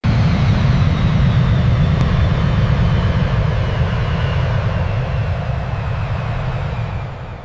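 An airplane engine drones loud and steady during flight, a broad, even roar heard from inside the cabin that eases slightly toward the end.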